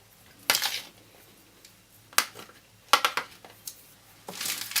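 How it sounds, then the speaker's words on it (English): Chicken being stirred in a pan with sweet sauce: a utensil scrapes and clanks against the pan in a few separate bursts with quiet gaps between, close and fairly faint, without talk. "Give it another quick stir."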